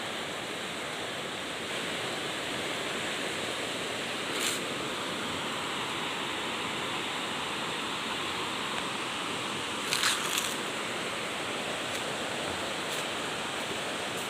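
Steady rushing water of a river near a hanging bridge flows continuously with a broad, even roar and no voices, with a few faint clicks along the way.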